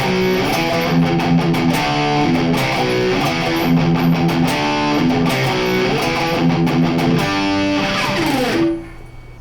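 A metal riff on distorted electric guitar played up to speed, driving repeated chugging notes and chords, loud and steady before ending in a pick slide and fading out.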